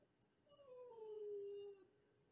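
An elderly dog, twenty years old, lets out a single drawn-out whine that rises into a thin, sustained howl-like tone before stopping abruptly. It is faint and heard alone in a quiet room.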